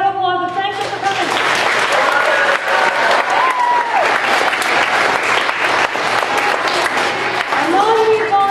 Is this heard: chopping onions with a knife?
no